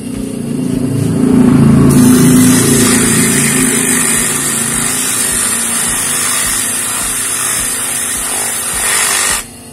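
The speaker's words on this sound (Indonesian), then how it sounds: "kita gunakan amplas dengan cara kita colokkan ke listrik, lalu kita amplas ya" A loud electric sander whines steadily at high speed, grinding against a water pump part for several seconds before cutting off abruptly.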